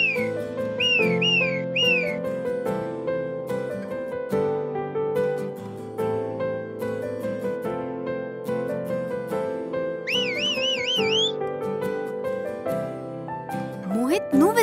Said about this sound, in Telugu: నువ్వు విజిల్ చేస్తున్నావా?